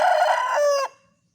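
A rooster crows once, loud and close, its call held then cut off into silence.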